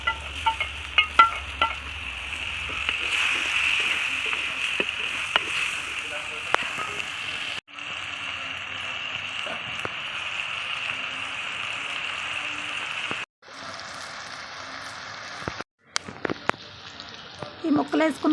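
Vegetables fry in a pan for a village-style chicken curry cooked outdoors in a garden. A steady sizzle runs throughout with occasional stirring clicks, while someone talks over it and there are brief cuts.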